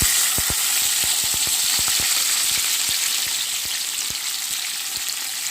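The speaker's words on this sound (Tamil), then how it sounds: "இப்போ இது எல்லாத்தையும் நல்லா வதக்கிக்குவோம்" Chopped onions and green chillies sauté in hot oil with a loud, constant sizzle up close, broken by quick crackles and pops and occasional spoon taps, with no talking.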